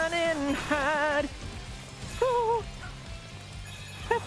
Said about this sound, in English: I can feel the rain! Let the rain come.